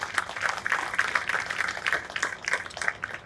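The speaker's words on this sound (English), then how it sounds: "A round of applause for them as well." Crowd applause at an outdoor September 11 commemoration ceremony: a steady wash of many hands clapping, moderately loud and continuous throughout, with no talk over it.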